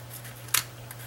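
A single quick snip of scissors through paper while cutting a stamped, sponged craft banner in half, one short crisp cut in an otherwise quiet room.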